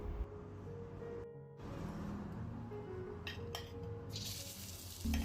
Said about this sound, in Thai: พริกกระเทียมลงไปผัดครับ ผัดให้หอมเลยนะครับ